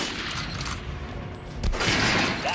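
Gunshots at an armored target dummy in Metro Last Light, a few quick loud shots with ringing impacts and a sharp boom near the end.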